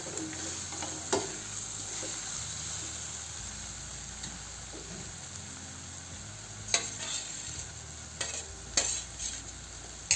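Pav bhaji masala and kasuri methi stirred in a hot pan, continuous close sizzling with repeated spatula scrapes and clicks against the metal.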